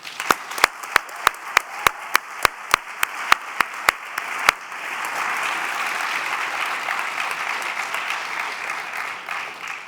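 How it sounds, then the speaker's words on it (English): A graduation audience at a midyear completion celebration begins with a few sharp, scattered handclaps, then swells into dense, sustained applause that carries on at an even level. "please join me in a hearty round of applause"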